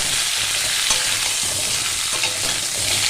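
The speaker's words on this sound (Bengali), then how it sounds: "এবার এইটা 2-3 মিনিট নাড়িয়ে চাড়িয়ে নিতে হবে" Sweet-sour mango pickle stirred in a pan, a loud continuous sizzle with repeated spoon scrapes and clinks over about three seconds, no voices.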